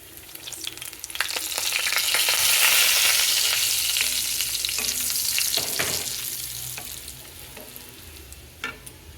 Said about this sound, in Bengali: এবারে আমি সাদা তিলটা দিয়ে দিচ্ছি।